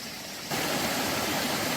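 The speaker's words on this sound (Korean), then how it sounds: "좌측 계곡의 물소리 시원하죠?" Water rushes in a mountain valley stream beside a hiking trail, starting soft and then swelling abruptly into a loud, steady broadband roar that stays close and continuous.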